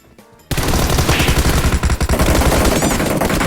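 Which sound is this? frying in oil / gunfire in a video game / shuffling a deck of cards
gunfire in a video game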